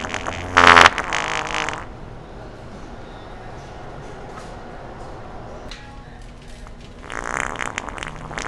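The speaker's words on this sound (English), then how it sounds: "It's just a fart toy." A squirt fart toy lets out a loud, wet, sputtering blast, then goes quiet before a second, longer spluttering burst near the end.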